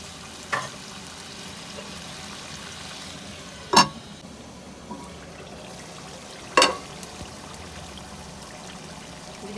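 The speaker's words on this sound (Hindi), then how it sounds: "ये देखिए गोश्त भुन रहा है, टमाटर ये सारे मसाले भी अच्छी तरह भून गए" Meat, tomatoes and spices frying in a pot for bhuna gosht, a steady low sizzle close by with three sharp stirring scrapes spaced a few seconds apart and no talking.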